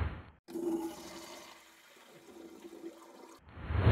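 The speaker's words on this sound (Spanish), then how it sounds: "Lo vaciamos en el WC" The contents of a portable chemical toilet (potty) are emptied into a flush WC: a loud rushing pour of water that swirls and fades, then surges again at the end.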